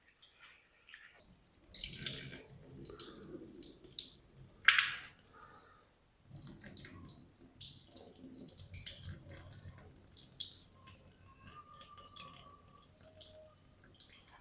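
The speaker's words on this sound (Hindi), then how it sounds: "पानी इसके अंदर और डाल के इसको अच्छी तरह धो लेंगे" Water splashes and swishes in a bowl as lentils are rinsed by hand, with wet squishing and dripping in uneven bursts and a brief pause.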